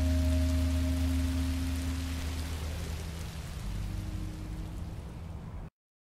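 Steady rain falls in the Minecraft Story Mode video game, a continuous dense hiss with a low rumble underneath, loud at first and easing slightly toward the end before cutting off.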